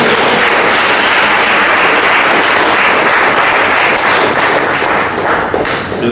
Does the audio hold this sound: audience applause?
yes